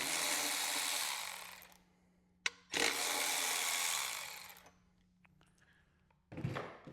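Power tool spinning loose the 13mm bolts on a Harley-Davidson exhaust muffler, in two long whirring bursts separated by a short click, then a faint pause and a brief final burst, close and fairly loud.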